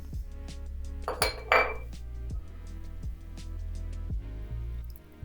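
Cleaned chicken liver is moved into a bowl with several close clinks and scrapes of a utensil against dishware, then a brief wet sloshing handful, all with no talk.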